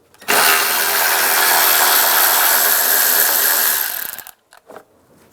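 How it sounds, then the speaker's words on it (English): Power driver with a 10mm socket backing out a bolt on the front end of a 1999-2005 Volkswagen Jetta during radiator fan replacement: one loud, steady whirring run of about four seconds, close up and alone, then abrupt stop. "Now using a 10mm socket, we'll take this bolt out on both sides."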